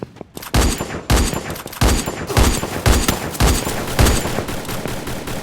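Rapid SVD sniper rifle gunfire in the Free Fire battle royale game, a string of sharp loud shots repeating about once per second with dense crackling battle noise between them and no talking.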